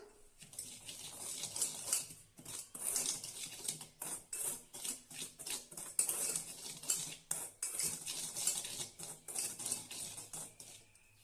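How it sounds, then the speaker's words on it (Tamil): Cake batter ingredients mixed in a bowl with a spoon, a fast run of light clinking and scraping strokes against the bowl, close and fairly quiet, continuing without pause and with no voices. "எல்லாத்தையும் ஒன்றா நல்லா கலந்து விட்டுறலாம்"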